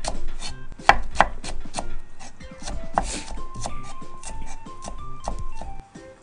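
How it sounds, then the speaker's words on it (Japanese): A kitchen knife slices a leek diagonally into thin pieces on a cutting board, a quick, steady run of crisp close-up chops with a few louder knocks, and no voices. "長ネギは斜めに薄切りするよ"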